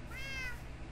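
Cat meowing in the video game Minecraft: a single short, clear, close meow standing alone.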